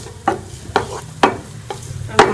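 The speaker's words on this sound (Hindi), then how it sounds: "अब हम इसमें प्याज शामिल कर लेंगे और प्याज को आपने हल्का सा सॉफ्ट करना है।" Onions frying in hot ghee while being stirred, a steady sizzle broken by four or five scraping stirs at a regular pace, close and loud with no talking.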